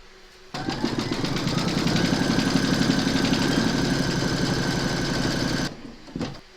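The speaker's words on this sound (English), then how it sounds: "Pop your hoop into your machine and stitch round number 5" A home embroidery machine stitches an in-the-hoop notebook cover segment in gold thread, a loud, fast, steady mechanical whirring and rapid needle chatter that starts abruptly, runs for about five seconds, then stops.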